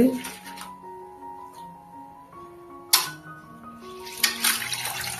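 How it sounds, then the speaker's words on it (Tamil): Soaked rice and urad dal being washed by hand in water: a few brief splashes and sloshing swishes, quiet between them, over soft steady background music. "ஒரு 3 to 4 டைம்ஸ் நல்லா கழுவிட்டு அரைச்சிடலாம்"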